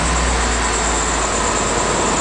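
A General Motors V8 in an aluminum-bodied step van with 206,000 miles runs at a steady, loud, unbroken drone, close by.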